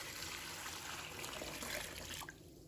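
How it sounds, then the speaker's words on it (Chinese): Clean water pours steadily over raw, cleaned prawns in a bowl, a continuous close splashing rush that cuts off near the end, with no talking. "我们再倒入清水"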